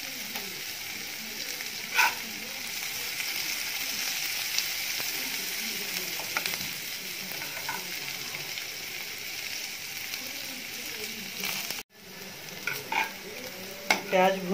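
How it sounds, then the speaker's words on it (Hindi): Onions fry with a bay leaf in a pan for bottle gourd curry, a steady close sizzle that carries on under occasional stirring clinks and a brief break near the end. "प्याज भुन गई है।"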